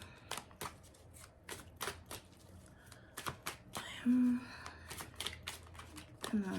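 Tarot cards shuffled by hand in a run of crisp, rapid riffles and slaps, close and fairly quiet, with brief pauses between bursts.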